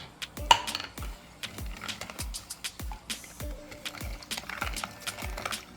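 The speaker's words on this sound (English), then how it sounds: "So I'm going to mix my coconut milk with the sugar now" A utensil mixing coconut milk and sugar in a bowl, with repeated close clinks and scrapes against the dish in a steady stirring rhythm, alone without talk.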